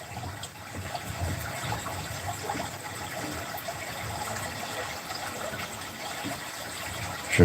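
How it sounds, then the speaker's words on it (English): A looped running-water sound effect flows continuously in the background of a live stream, a soft steady gush and trickle at moderate level with no talk over it. "Does anybody hear the water?"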